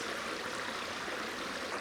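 A return jet in a garden pond in Scotland circulates water with a steady, even rushing and splashing flow, continuous and fairly close, with no voices over it.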